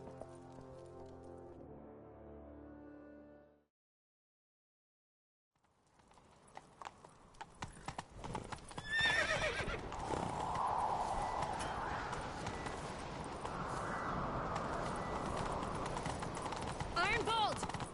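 In a video game, a voice or music plays briefly, then after a pause horse hooves gallop in a rapid clip-clop that builds to a steady, loud pounding, with a faint whinny mixed in.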